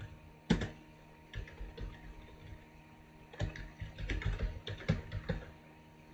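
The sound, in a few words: typing on a computer keyboard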